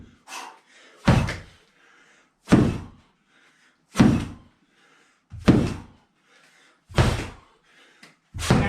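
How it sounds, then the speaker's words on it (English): A medicine ball slammed hard onto the floor in alternating hammer slams during a home dryland strength workout, six loud heavy thuds at a steady rhythm roughly every second and a half, with quiet gaps between. "So I grab that med ball, alternating, hammer slams."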